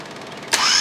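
An inline six engine cranks steadily for about half a second, then catches with a sudden loud burst and settles into a bright, continuous running roar, close and with no voices.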